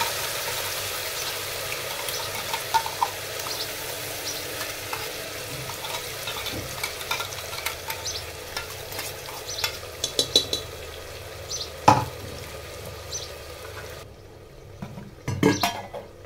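Ground masala being stirred into frying mutton in a pot, with a soft steady sizzle, scraping stirs and clinks of a spoon against the metal rim, growing quieter near the end.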